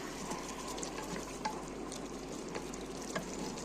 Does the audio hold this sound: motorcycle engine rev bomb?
no